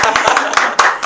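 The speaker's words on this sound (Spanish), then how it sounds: "Aplausos, por favor." Students clap in a classroom or hall, a quick, sharp burst of about eight close handclaps in a loose, uneven rhythm.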